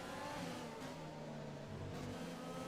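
Formula 1 race car engines drone during the Singapore Grand Prix in F1 2020, a faint, continuous high-revving whine with little change throughout.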